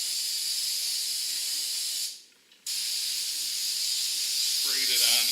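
Aerosol brake parts cleaner sprays in a loud, steady hiss close by, cutting off briefly for about half a second before the hissing spray resumes.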